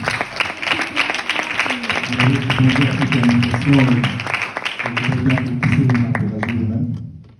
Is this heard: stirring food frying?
no